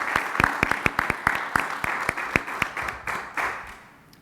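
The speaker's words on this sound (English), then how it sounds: "So I just want to thank Ms. Brate for all of her hard work over the last year and ask for a round of applause" A short round of applause from attendees at a school committee meeting, many distinct claps ringing out loudly and then thinning as the clapping fades toward the end.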